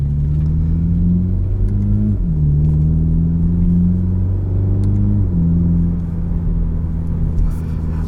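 A 2021 Toyota Supra with the 2.0 engine drives along, giving a loud, steady low drone inside the cabin that climbs in pitch through gears with brief drops at each shift, with no talk.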